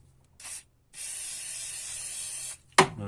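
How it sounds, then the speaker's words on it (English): A short burst of WD-40 aerosol spray onto a Continental fuel injector, then a longer steady hissing spray lasting over a second, followed by a sharp clack of handling. "Then we spray everything with WD-40."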